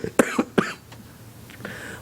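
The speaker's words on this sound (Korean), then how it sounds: "저는 기침이 튀네요" A preacher gives several sharp, close coughs in quick succession during a Sunday sermon, followed by quieter throat sounds.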